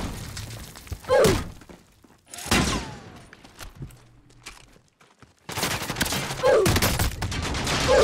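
Video game battle gunfire arriving in loud, close bursts of rapid shots and impacts, separated by quieter gaps, with a heavy stretch of sustained firing at the end.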